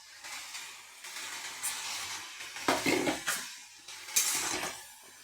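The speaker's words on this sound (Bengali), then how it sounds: "ভালো করে আরেকটু কষিয়ে নেব।" Spatula scraping and stirring vegetables with ground spices in a pan for a mixed-vegetable puti fish curry, soft faint scrapes building to a few louder clattering bursts near the end.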